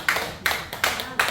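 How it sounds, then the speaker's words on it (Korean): Four sharp, evenly spaced bursts of group clapping from a seminary class audience during a Bible lecture, in steady unison rhythm, fairly close and with no talk over them. "박수 한번 쳐요"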